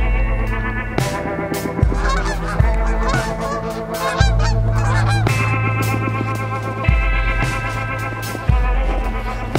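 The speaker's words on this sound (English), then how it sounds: "a whole bunch of Canada geese and ducks" Canada geese on the Bow River in wintry Fish Creek Park, Calgary, honking loudly and repeatedly in a close, overlapping chorus, with no voices.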